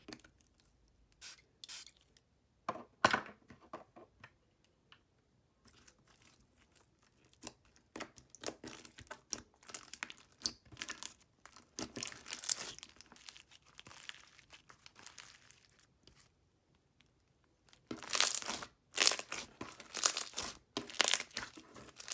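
Hands squishing a foam bead slime with a thick glossy base, large white foam beads and sprinkles, making bursts of crisp crackling and popping clicks that come and go, close and quiet with no voices.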